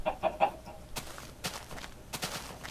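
Clucking chickens in the Minecraft video game, a few short close clucks at the start followed by scattered softer game sounds, with no speech.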